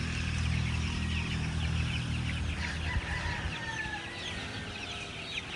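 A flock of young chickens in a range area at feeding time, dense overlapping clucks and chirps forming a continuous close chatter throughout.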